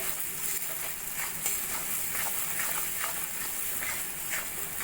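Kashmiri chilli powder is stirred into sizzling spices in a pan, giving a continuous frying hiss with soft scraping strokes of the spoon, close and fairly quiet, with no voices.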